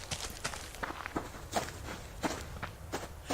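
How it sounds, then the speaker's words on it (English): Footsteps of a player character walking across the ground in the survival video game Subsistence, a steady run of soft, evenly spaced thuds at moderate loudness with no talking over them. "It sounds like my footsteps are making a little bit different noise."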